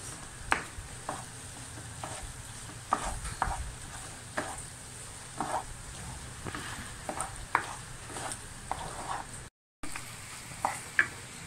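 Mango pickle being stirred with sesame oil, vinegar and chilli powder in a pan, giving soft scraping strokes at a slow, uneven rhythm over a faint sizzle, close and fairly quiet, with no talking.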